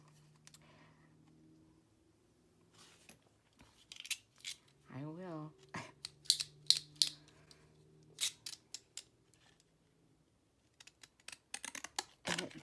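Scissors cut down a handmade thank you card, a series of sharp, close snips in uneven clusters with quiet gaps, and a soft voice murmurs briefly.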